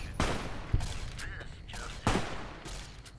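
Sharp gunshots in Fallout New Vegas, a few loud separate bangs spaced about a second apart, with game sounds and a voice between them.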